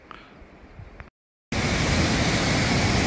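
A large, powerful waterfall in a remote mountain village, heard as a loud, steady broadband roar that cuts in suddenly after a brief silence, preceded by faint ambient background.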